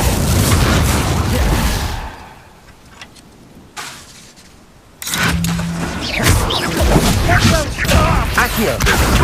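An Accio spell effect in the game Hogwarts Legacy comes through as loud, dense magical rushing and booming, dropping to a brief lull before a sharp burst resumes the thick, layered battle noise.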